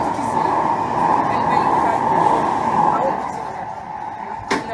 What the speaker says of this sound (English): we're actually held up by a tram. Here it comes now.